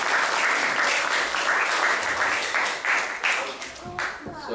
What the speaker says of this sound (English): let's give a round of applause to Balabhadra Prabhu